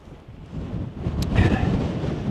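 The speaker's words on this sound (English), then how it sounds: "But over here it's quite windy." Wind buffeting a hillside above a river valley, a steady broad rush that swells in gusts and rumbles against the microphone, with no voices.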